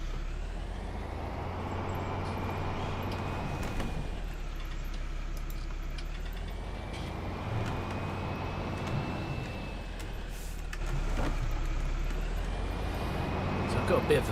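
A Fendt Farmer 310/312 LSA tractor engine in Farming Simulator 19 drones steadily with a low rumble and a faint whine that rises and falls as it works, heard from inside the cab.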